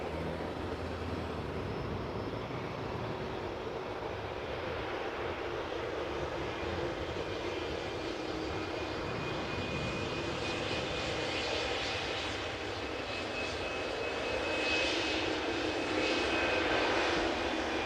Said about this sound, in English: the A380 has all of the runway for it to land on